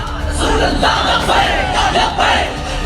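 A large crowd gathered to hear Saad Rizvi roars and chants in rising surges, a dense mass of voices swelling and fading in waves, loud and continuous.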